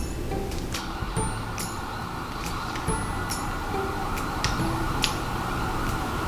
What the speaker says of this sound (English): That's a long siren.